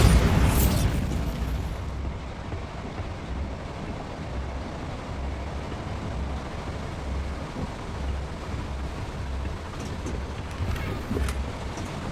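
A Bombarda spell blast in the Hogwarts Legacy video game opens with a short, sharp burst. A steady low rumble and background ambience follow and run on for several seconds.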